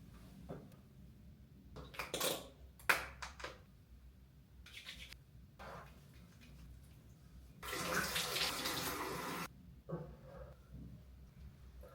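Tap water splashes while a face is washed, a quiet scatter of short bursts of running and dripping water, then one steadier stream lasting a couple of seconds, ending with a few softer splashes.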